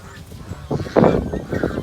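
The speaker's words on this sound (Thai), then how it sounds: "เป็ดน้อยออกมาเล่นแล้วข้างนอกนะครับ" Barbary (Muscovy) ducklings outdoors on a farm give a few short honking, quacking calls, loudest in a brief burst near the middle, over soft background noise.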